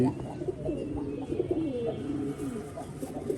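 A large pigeon coos in a steady run of soft, low, rolling calls, fairly close and alone, with no talk over it.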